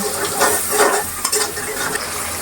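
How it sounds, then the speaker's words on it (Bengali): Spice paste of chili, turmeric and ginger-garlic paste being fried and stirred in a pan for a rohu fish curry, giving a steady close sizzle with scraping stirs and no talk. "মশলাটা খুব ভালো করে কষিয়ে নিব"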